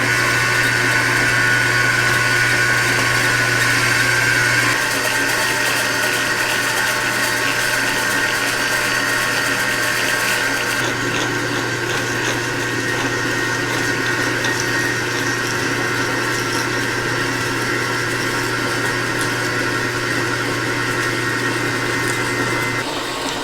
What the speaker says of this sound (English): It isn't fast, but it drills holes.